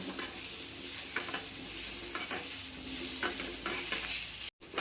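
Grated dry coconut being dry-roasted for an egg curry, a spatula scraping and tapping against the pan in a steady, close rhythm over a soft continuous hiss, with no talking.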